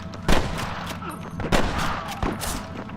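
Sniper gunfire in the Red Dead Redemption video game during a shootout in Pike's Basin, with several sharp, loud shots cracking out over a noisy battle background.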